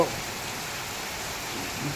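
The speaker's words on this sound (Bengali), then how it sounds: "এই সাড়ে বারোটা তো বৃষ্টি একটুও থামেনি" Heavy rain pours without pause late at night during a storm with strong wind, a dense, even hiss of falling water that fills the whole moment at moderate loudness.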